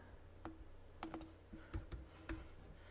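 Keys on a computer keyboard are tapped in a short sparse sequence of distinct clicks, about half a dozen light taps over a quiet steady hum.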